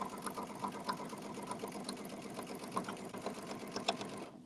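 A sewing machine stitching a reversible place mat runs steadily with a fast, even mechanical chatter, close and continuous, stopping abruptly at the end with no talk over it.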